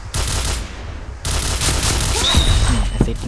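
Rapid automatic gunfire from the online shooter game Point Blank, dense bursts that stop briefly near the one-second mark and then resume loud and continuous.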